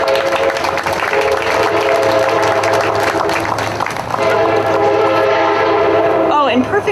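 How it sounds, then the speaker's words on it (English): A train passes close by with a loud, sustained horn blast over the rumble of rail cars, amid an outdoor ribbon-cutting crowd, with people talking and clapping faintly underneath. "perfect timing for our train there"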